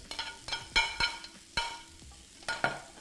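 Garlic, ginger and spring onion sizzle in a drizzle of oil while a utensil scrapes and taps the pan several times, a close and fairly quiet stir-fry with irregular clatter.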